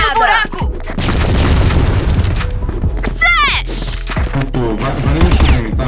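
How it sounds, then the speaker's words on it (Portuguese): A grenade detonates in an online shooter game with a heavy, loud boom followed by crashing debris and further blasts, while players shout over the action. "Toma, granada! Fogo no buraco!"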